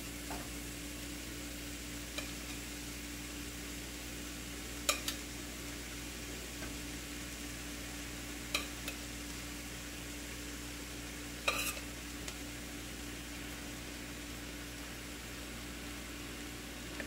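Extra lean ground beef fries in a pan with a constant low sizzle under a steady hum, with a few faint clicks and scrapes of stirring and no talking.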